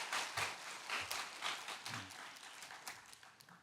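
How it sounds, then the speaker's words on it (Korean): A church congregation claps in encouragement for ministry workers during a Sunday service, a soft, steady spread of many hands with a few sharper claps standing out from the crowd. "다시 한번 격려의 박수 부탁드리겠습니다."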